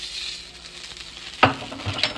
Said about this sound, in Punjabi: ਆਮਲੇਟ ਬਣ ਰਿਹਾ